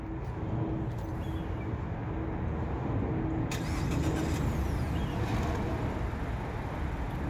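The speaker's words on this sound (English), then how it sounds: "Car starts up, runs for about 15 minutes, and then turns itself off." A 2018 Mazda 3 hatchback engine starts by remote start and settles into a steady idle, heard close and unbroken with no talk.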